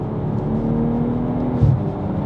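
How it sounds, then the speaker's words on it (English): BMW M440i Gran Coupe with a B58 engine, aftermarket exhaust and AC Schnitzer tuning box, droning steadily from inside the cabin for about two seconds with a brief low burble near the end; no talking. "where this has got the AC Schnitzer tuning box paired with the exhaust, oh, it's beautiful"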